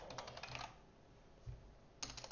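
Fingers type on a computer keyboard in quick clustered runs of close clicks, with a pause in the middle before a final short burst of keystrokes.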